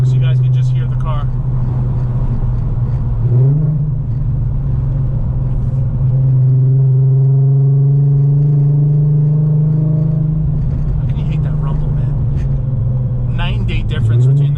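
An Audi RS3 with a fully built R30 VR6 engine cruises with a constant loud rumble heard from inside, the tone dipping and rising as the engine's load changes over several seconds, with faint brief high-pitched sounds here and there.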